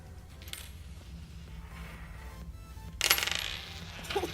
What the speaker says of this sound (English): We can use it to pick up paper clips.